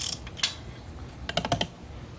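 A wrench working loose the 12mm exhaust header bolts on a Kawasaki KLX250 motorcycle, with a few sharp metallic clicks and ratchet ticks, close and brief.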